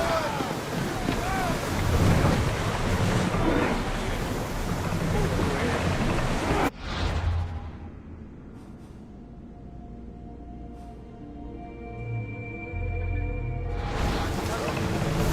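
A ship sails on open sea in Assassin's Creed Odyssey, with a steady rush of wind and waves, a sudden break, then quieter water sloshing and creaking before the surge returns; voices speak over it.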